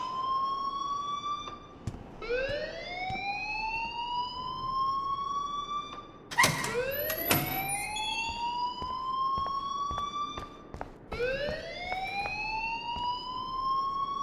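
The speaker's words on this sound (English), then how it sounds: "please turn off that alarm since that's your job" A school alarm in the video game Life Is Strange wails in repeated rising siren sweeps, loud and continuous, with a few sharp clicks between cycles.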